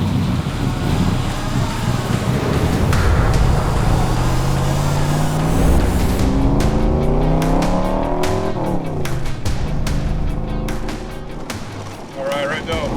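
A Backdraft Racing Shelby Cobra 427 V8 drives on the road, its engine loud and close, revving up through rising gear pulls and a shift with a throaty, rough roar, while voices talk over it.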